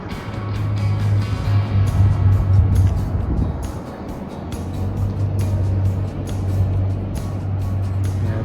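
Ford LTD, a massive car, being driven, with steady engine and road rumble throughout, a low droning hum and a brief dip midway, heard from inside the car with no talking.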